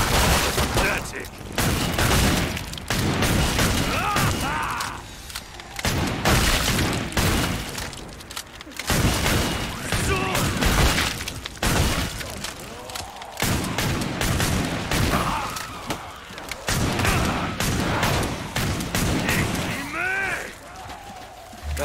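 Dense, continuous gunfire from Killing Floor 2 on the Black Forest map, rapid loud shots and booms hammering almost without pause, with brief game voices mixed in.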